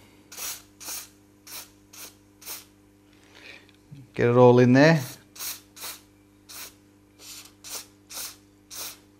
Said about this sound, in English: It looks bizarre spraying a circuit board with a liquid